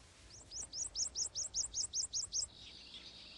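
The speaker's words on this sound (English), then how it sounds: "The prothonotary warblers are back from Central America, where they spent the winter." A prothonotary warbler sings in a swamp, a clear series of about twelve evenly spaced high, sweet notes delivered rapidly, fairly close, over quiet background ambience.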